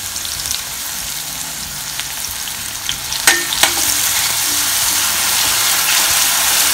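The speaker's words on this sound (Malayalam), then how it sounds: "ഞാൻ ഇതിലേക്ക് നമ്മൾ ചതച്ച് വെച്ചിട്ടുള്ള വെളുത്തുള്ളിയും ചുവന്നുള്ളിയും ഇടാണ് ഇനി നമുക്കത് നല്ലതുപോലെ അങ്ങ് മിക്സ് ചെയ്യാം" Crushed garlic and shallots fry in hot oil for a carrot and raw plantain mezhukkupuratti, a steady close sizzle running throughout, broken by a couple of sharp stirring clacks partway through.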